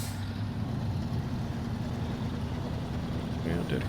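A heavy truck in SnowRunner reverses with a low, steady diesel engine drone and rumble that holds throughout at close range, with a faint mechanical hiss near the end.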